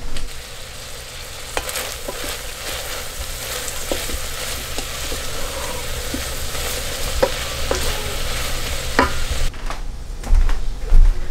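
Leeks sauté in a pan with a steady sizzle and occasional stirring clicks of a utensil, close and continuous, with a bump of handling noise near the end.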